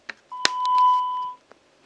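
A single steady electronic beep lasting about a second from an SK Telecom voicemail service before message recording begins, preceded by a couple of faint clicks and followed by silence.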